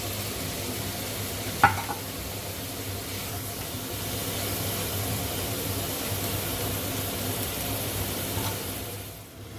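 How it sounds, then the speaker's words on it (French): Chopped vegetables sauté together in a pan with browned veal bones for a brown veal stock, giving a steady, even sizzle and hiss throughout with one brief clatter early on, no talking. "on va rajouter tous nos légumes. Voilà, on fait tout revenir ensemble."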